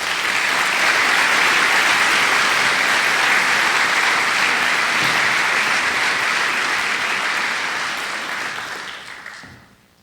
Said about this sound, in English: So to Paul and Jessica, a round of applause for everything they've done.